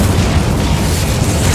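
An Incendio fire spell bursting in a wizarding video game, a loud, dense booming blast that fills the whole moment without letup.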